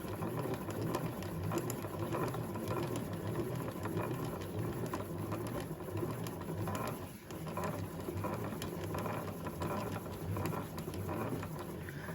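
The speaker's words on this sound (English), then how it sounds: "this yarn winder does not, it's old enough that it does not wind yarn like the newer ones" An old yarn winder runs continuously as it winds yarn into a cake, giving a steady, close mechanical whir with a faint rhythmic patter, heard alone.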